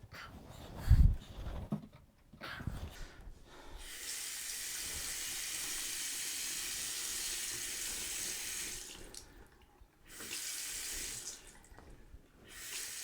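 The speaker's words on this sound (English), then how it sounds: "and then we test our faucet." Water runs from a newly installed bathroom sink faucet in a steady, fairly quiet hiss, with brief handling noises at the start and a short pause near the middle before the flow resumes.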